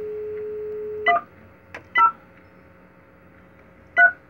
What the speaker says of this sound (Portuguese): Vou ligar, vou discar.